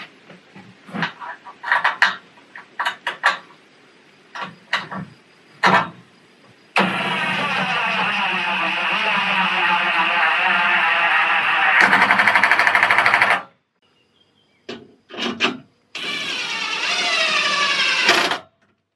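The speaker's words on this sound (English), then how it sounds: "I'm first going to screw in the top screw, then see if everything is level, then screw the rest." Power screwdriver driving screws into a sanitary building frame: short stuttering bursts of motor whine, then a long sustained run and two more extended drives, close and loud with no talk.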